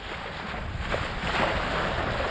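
Steady wind rushes past a Mini 650 sailboat sailing close-hauled in about nine knots on the way into Horta, a continuous broadband whoosh with slight gusty swells and no voices.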